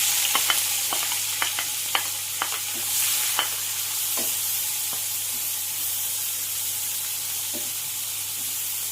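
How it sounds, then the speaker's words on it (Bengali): Sliced onions frying in hot oil, a continuous close sizzle broken by sharp clicks and scrapes of a spatula stirring, no voices. "পেঁয়াজটা আমি খুবই ভালো লাল লাল করে একটু ভেজে নেব।"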